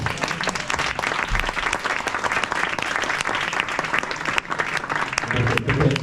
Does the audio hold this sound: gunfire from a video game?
no